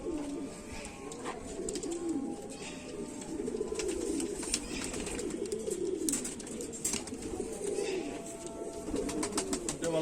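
A female Kamagar pigeon coos repeatedly in soft, rolling phrases close by, with faint chirps and rustling in the background.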